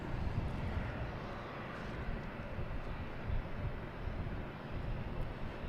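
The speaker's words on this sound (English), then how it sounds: "Have an A320 here in the alley." A JetBlue Airbus A320 bound for Fort Lauderdale idles in a taxiway alley at Boston Logan Airport, giving a steady, moderately distant jet-engine roar with no breaks.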